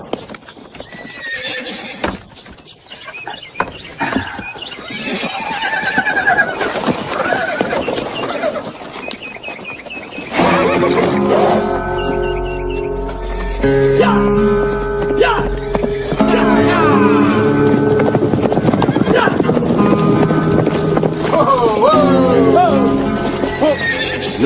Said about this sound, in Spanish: ¡Buen caballo!